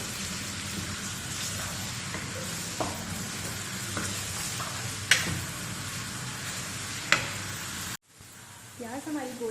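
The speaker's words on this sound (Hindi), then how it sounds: "अब हम इसमें डालेंगे चॉप की हुई प्याज और इसको लाइट ब्राउन करने तक फ्राई कर लेंगे" Chopped onions frying in a cup of oil in a kadai give a steady, loud broadband sizzle with occasional stirring clicks, until the sizzle cuts off sharply near the end and faint background sounds follow.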